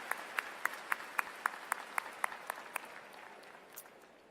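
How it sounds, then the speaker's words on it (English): Faint audience applause at a 2018 spring university commencement, with evenly spaced hand claps standing out above a soft background of crowd clapping that tapers off. "Let's give our speaker another round of applause,"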